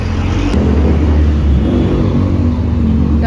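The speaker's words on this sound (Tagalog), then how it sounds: "Traffic." Street traffic near a grocery store rumbles past close by, a loud, continuous low engine drone and tire roar of passing cars with a brief high click near the start.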